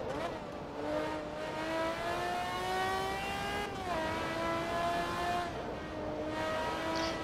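A race car engine in the video game Forza Motorsport 2 revs continuously and loudly, pitch climbing through gears with a sharp drop at a shift, then rising again in a sustained whine.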